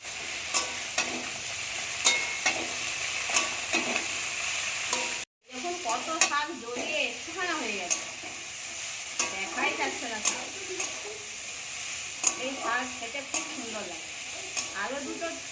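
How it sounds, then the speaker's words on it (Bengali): Fenugreek greens stirred and fried in hot oil with turmeric in a pan, with a steady sizzle throughout and a brief cut partway. After that, louder scraping stir strokes follow in a quick rhythm. "এখন ভালো করে ভাজা হয়ে গেছে এবার দিয়ে দেবো শাক"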